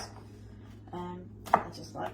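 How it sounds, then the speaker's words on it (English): A kitchen knife chops an onion into fairly large pieces on a cutting board, giving a few quiet, separate cuts close by, with one sharper strike near the end. "so right now just chopping up my onion"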